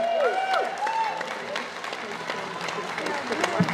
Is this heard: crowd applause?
yes